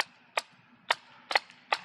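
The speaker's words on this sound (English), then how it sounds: "I should not be shooting so much paint to hit somebody" Paintball marker shooting paintballs on an outdoor field, four sharp cracking pops spaced unevenly, one a quick double, clear and fairly close.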